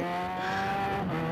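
Yamaha XJ6 motorcycle engine revving hard in GTA San Andreas, a steady high-pitched buzzing drone with strong harmonics that rises slightly near the end, loud and close, with no talking.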